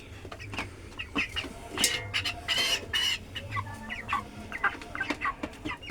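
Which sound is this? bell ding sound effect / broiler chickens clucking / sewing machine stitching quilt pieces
broiler chickens clucking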